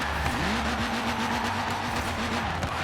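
A Toyota Corolla SR5 with a turbo rally engine in Forza Horizon 4 roars steadily at high revs, its pitch sliding as it shifts and accelerates, loud and continuous with a gritty road rush underneath.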